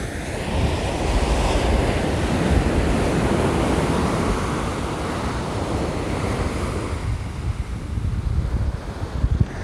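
Sea waves breaking on Mamucabinhas beach in Barreiros, Pernambuco, as the tide rises: a loud, continuous wash of surf with heavy wind buffeting the microphone, easing slightly toward the end, with no talking.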